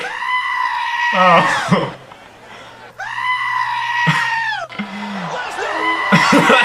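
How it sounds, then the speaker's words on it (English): A famous human goat scream, edited over a wrestler's scream, blares in long, loud, wavering bleating shrieks, repeated twice amid crowd noise, with a brief exclamation from a man between them. "Brock's scream inspires many to edit the famous human goat scream over his own."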